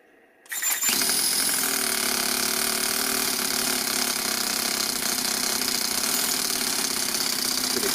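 A 4-stroke overhead cam engine in an RC car catches after a brief quiet moment and then runs at a loud, steady, buzzing idle close by.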